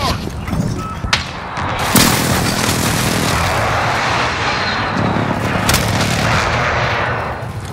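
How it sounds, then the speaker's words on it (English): Enemy precision airstrike in Call of Duty: Modern Warfare, a deep rumble of booming explosions and sharp cracks, with a loud blast standing out early on before a continuous roar of distant impacts. "Enemy precision airstrike. Get down."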